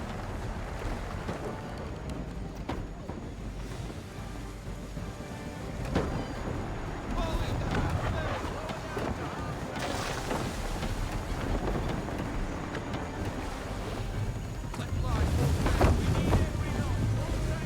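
A sailing ship at sea in Assassin's Creed III, with steady wind and rushing water washing past the hull throughout, swelling louder toward the end.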